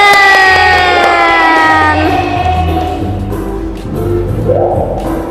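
Children in a classroom cheer and shout together after a correct answer, a loud, lively burst of young voices that starts strong and eases slightly before swelling again near the end.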